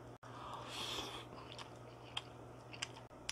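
Someone eats spicy canned tuna mixed with instant rice, a faint, close-up soft chewing with a few small wet clicks and crunches in a quiet room.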